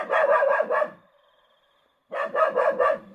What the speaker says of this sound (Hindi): आज लकी चुप ही नहीं हो रहा, लगातार भौंक रहा है।